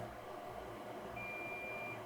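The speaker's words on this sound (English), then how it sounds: "we need a beep" A thin, steady high-pitched electronic beep sounds for about a second over a constant low hum, during repair of an iPhone 12 Pro.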